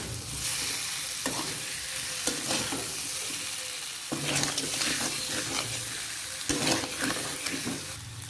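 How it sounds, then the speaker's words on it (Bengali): Egg and potato curry, Bengali style, being stirred in a sizzling pan: loud close frying crackle with repeated scraping stirs at intervals, no talking. "দেখুন এবার নেড়ে নেব।"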